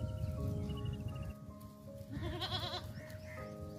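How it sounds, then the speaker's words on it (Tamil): Three young goat kids bleat in short, wavering cries, close by and fairly quiet, over a low, steady background hum. "மூணு ஆட்டுக்குட்டிங்களை வந்து பாருங்கள்."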